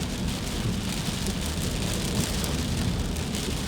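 Steady rain with small drops falls continuously on a road in Manila, a dense hiss of drops on surfaces with a low rumbling undertone, no voices.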